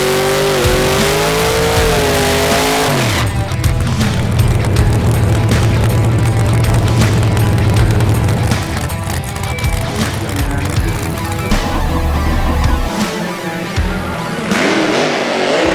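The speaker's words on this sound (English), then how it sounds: "Team Bodie had trouble keeping the car running after the burnout, and it spun again when they left the starting line" Drag race car at a $10K drags event doing a burnout and launch, loud roaring engine with tires spinning and revving across the whole stretch, rising and falling near the end.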